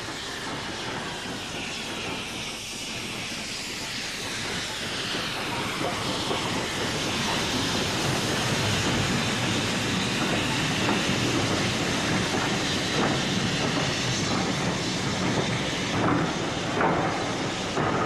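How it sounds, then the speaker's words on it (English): A British Railways steam locomotive, the last one BR built, works hard near the top of the steep 1 in 49 gradient from Grosmont to Goathland. Loud, continuous chuffing and hissing mixes with rail noise and builds steadily throughout. "Here the engine is seen at the top of the severe gradient at 1 in 49 from Grosmont to Goathland"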